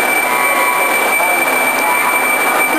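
A Giddings & Lewis 5-inch horizontal boring mill runs with a loud, constant mechanical drone and a steady high whine, unbroken and close.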